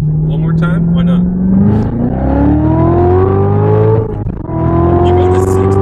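A 2016 Corvette Z06 with a manual gearbox accelerates hard, its engine and exhaust rising in pitch through a long pull, dipping at a shift, then climbing again, loud from inside the car with voices talking.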